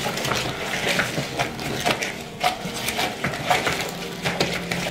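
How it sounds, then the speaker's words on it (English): Sugar and cream being stirred in a bowl, with steady scraping and clinking strokes repeating in an uneven rhythm, close and moderately loud, with no talking. "We need to stir so that we don't see any more sugar. Carry on stirring."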